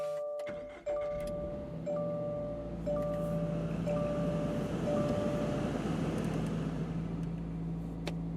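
A Toyota GR86 sports car with a manual gearbox cranks briefly and fires up, settling into a steady, loud idle with a low rumble from its sports exhaust, heard from inside the cabin with no talking.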